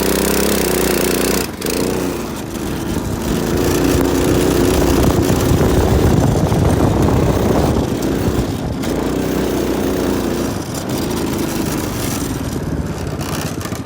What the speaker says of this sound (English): The go-kart is working again.